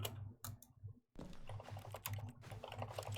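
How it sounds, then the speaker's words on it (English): Computer keyboard keys are pressed rapidly and repeatedly during a playthrough of The Stanley Parable, a quiet, dense clatter of typing with one brief pause partway through. "I'm pushing all the keys except for the M button."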